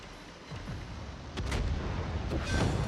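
Torpedoes strike a ship in a World of Warships-style naval game, heard as two heavy booming explosions about a second apart over a constant low rumble of battle noise.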